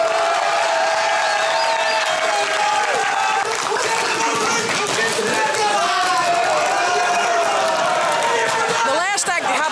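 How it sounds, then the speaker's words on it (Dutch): Crowd applause at a village performance event, steady, loud clapping and cheering throughout, with voices and chatter mixed in over the noise. "Ik denk dat een heel groot applaus nou wel op zijn plaats."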